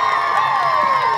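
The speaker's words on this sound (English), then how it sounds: "please give them a huge round of applause" A festival audience cheers and shouts loudly for performers, a dense, continuous roar of many voices with whoops, close and filling the space for a short burst.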